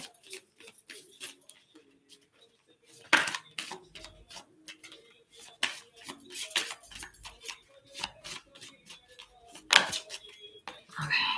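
A tarot card deck is shuffled by hand in quick bursts of riffling snaps and light clattering taps, close and uneven, with pauses between runs.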